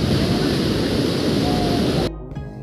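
Heavy sea waves pound the shore during Typhoon Odette in a loud, continuous roar mixed with wind buffeting, which cuts off abruptly near the end, leaving a faint murmur.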